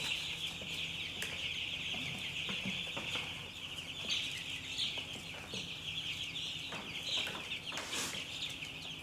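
Young chicks peeping in a brooder, a dense continuous chorus of high cheeping calls with scattered rustles and taps, close and steady, with no talking.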